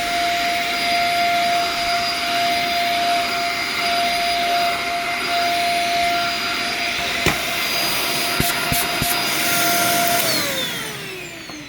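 A smelly, faulty Dyson DC50 vacuum cleaner whines loudly and steadily up close with a strong tonal hum, runs alone for about ten seconds, then spins down near the end.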